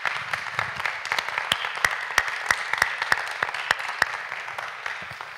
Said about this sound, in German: nochmal um einen Applaus